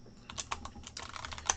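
Quick keystrokes clatter on a computer keyboard in a short, irregular burst of closely spaced taps, fairly faint and with no talk.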